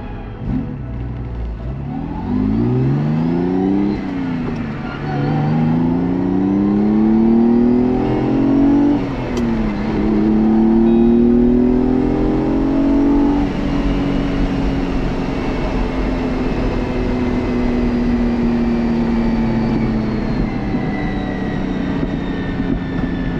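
A Ferrari Dino 246 GTS engine revs loudly through rising and falling gear changes, its tone sweeping up repeatedly before settling into a sustained high drone.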